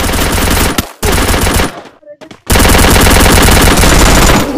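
A heavy machine gun fires in long rapid bursts in an online shooter game, loud and close, cutting off briefly for a quiet gap before the sustained hammering fire resumes.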